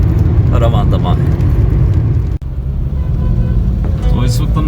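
Car driving through heavy rain-day traffic on Srinagar Highway in Islamabad, with a steady low road and engine rumble throughout and a voice talking over it.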